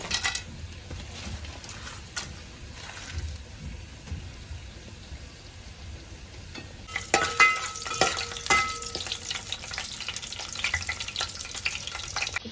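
Cardamom and cloves dropped into hot oil, a soft sizzle that jumps to louder crackling and spattering about halfway through, close and continuous.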